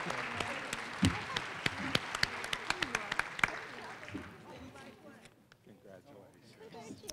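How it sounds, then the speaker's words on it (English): Audience applause at a college annual awards and recognition ceremony, a quiet room of clapping with distinct sharp individual claps standing out, fading after about four seconds as a speaker begins talking. "Big round of applause."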